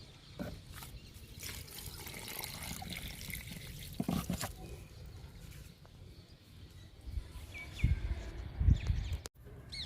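Water is poured onto a potted curry leaf plant outdoors with a steady soft trickle and splash, a few louder splashes and knocks near the end, birds faintly audible.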